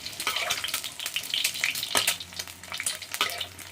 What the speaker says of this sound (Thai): ผมก็จะเอาน้ำมันราดบนไข่อะฮะราดบนไข่ดาว